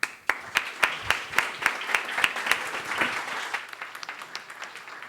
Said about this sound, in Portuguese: Desejo a todos uma boa noite e uma salva de palmas.